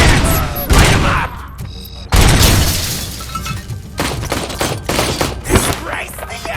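Dense bursts of gunfire and heavy impacts rattle through combat in the video game RoboCop: Rogue City, loud and near, with rapid volleys broken by short pauses and booming hits.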